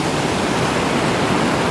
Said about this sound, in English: here's the waterfall. Flowing pretty good there, actually